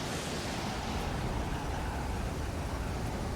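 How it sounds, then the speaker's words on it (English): Heavy sheets of rain in a video game, a dense, even wash of hiss and rumble holding steady throughout, with no voices. "Bit of sheet rain there."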